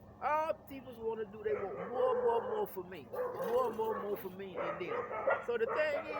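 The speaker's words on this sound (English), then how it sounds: "excuse the dogs in the background" Several dogs bark and yip in the background, recurring throughout beneath a man's steady, continuous talking.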